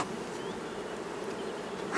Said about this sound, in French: On a les abeilles, elles sont là.